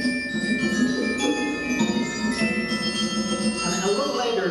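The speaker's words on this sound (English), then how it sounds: "So she's on a set of bells. She's being accompanied by pitched tom-tom drums." Orchestral bells ring bright sustained tones over pitched tom-tom drums and marimba in a symphony orchestra setting, playing a dense, continuous ensemble texture at steady moderate loudness.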